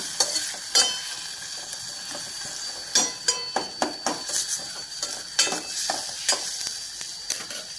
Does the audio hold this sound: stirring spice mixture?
yes